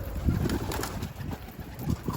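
A pigeon coos in low, soft, repeated bursts close by inside a coop, with faint background noise.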